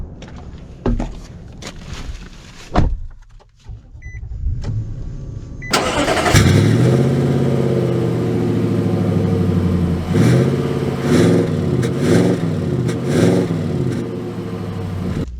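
A 2023 Nissan Titan PRO-4X pickup's engine cranks with a few clicks and thumps, fires up loudly around six seconds, then idles and revs in repeated swelling pulls, close and without talk.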